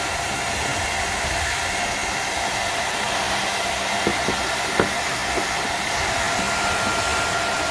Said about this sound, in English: I will use a hair dryer in order to dry